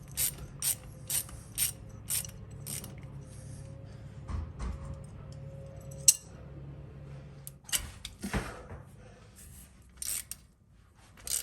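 Hand ratchet wrench removing bolts on a 2005–2022 Ford F250/F350 front end during a steering stabilizer install, with a series of crisp rhythmic clicking strokes, then pauses, clunks and more scattered clicks close up.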